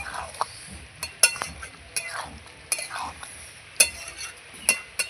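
Ground garam masala stirred and fried with goat liver in a pan, a soft low sizzle punctuated by a few sharp metallic clinks and scrapes of the spoon against the vessel.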